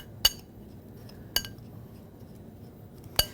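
A spoon clinks against a bowl three separate times while spices are stirred together, each sharp metallic tap standing out clearly over a quiet, low background hum.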